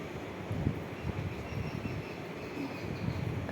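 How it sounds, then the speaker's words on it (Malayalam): A passenger train from Shoranur rolls into Angadipuram station with a steady, loud, broadband rumble and rattle that holds throughout, without a break. "ഇതാ ഷൊർണൂരിൽ നിന്നും ട്രെയിൻ വന്നുകൊണ്ടിരിക്കുകയാണ്"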